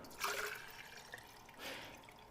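Cold water is poured from a quart measure onto dried ginger, a soft, faint splashing and trickling in a couple of short bursts, heard close by with no voices.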